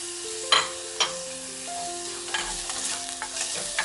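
Shallots sauté in hot oil in a pan for Kerala sambar, a close, steady sizzle with a few sharp scrapes of a spoon stirring through the frying.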